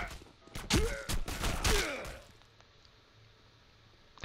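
Several rapid gunshot bursts in the video game District 187: Sin Streets, fired through walls, loud and close, then fading into a quiet room tone.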